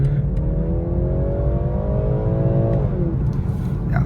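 A 2023 BMW 330i with the base engine and rear-wheel drive accelerates from a hold, its engine note rising steadily and loud from inside the cabin, then easing off at a gear change with a little road roar underneath.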